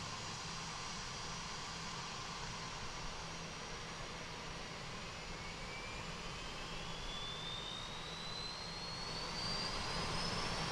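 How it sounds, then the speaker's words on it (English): The APU of a CRJ airliner spools up in Microsoft Flight Simulator, giving a steady, loud jet-like roar with a thin whine that rises slowly in pitch and swells a little toward the end, with no talking. "we'll get the APU spooling up"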